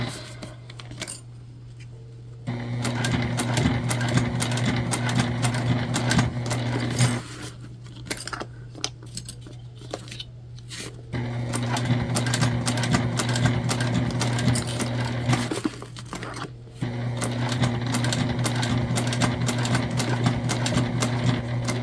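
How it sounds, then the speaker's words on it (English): A sewing machine top stitching along the front of a bucket bag runs in steady mechanical bursts, whirring and clattering loudly with brief pauses between runs. "so I'm just going to really try to make sure that we keep that nice straight top stitch"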